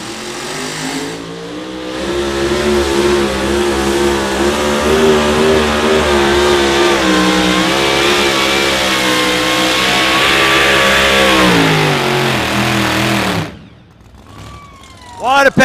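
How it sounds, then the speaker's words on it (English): A loud, sustained engine roar as a two-wheel-drive Jeep truck revs hard and pulls under strain for many seconds at an outlaw truck pull in Hawarden, then cuts off abruptly into quieter crowd noise. "Big old Jeep hammering down there."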